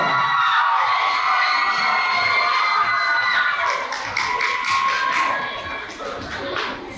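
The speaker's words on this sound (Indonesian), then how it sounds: "Tepuk tangannya boleh lanjut kok ya, nggak apa-apa" Applause and cheering from a school audience for a high school choir, a dense wash of clapping with some shouts from children, loud and close at first, then thinning out toward the end.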